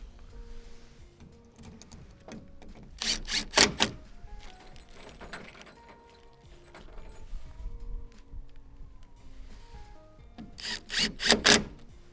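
Screws being fitted into the metal angle-strut brackets of a large garden building: continuous scraping and rubbing with metallic rattles, plus two loud bursts of rapid grinding, close by, with no talk.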